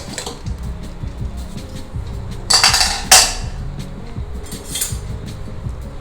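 A pressure cooker lid is unfastened and lifted after the pressure has settled, giving two sharp metallic clanks with a brief hiss-like burst near the middle, over low kitchen rumble and scattered clinks of pots.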